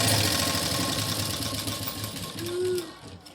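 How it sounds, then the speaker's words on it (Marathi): A sewing machine stitches a blouse neckline with a fast, steady mechanical whir that is close and fairly loud, easing off slightly toward the end. "आता इथून आपण शिलाई देऊन घ्यायची"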